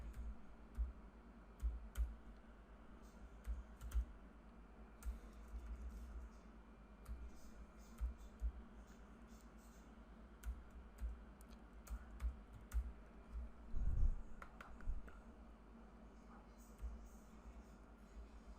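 Java code typed on a computer keyboard, with steady bursts of close, light key clicks separated by short pauses and a few heavier strokes near the end.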